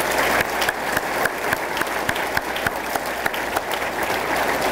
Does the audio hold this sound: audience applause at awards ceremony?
yes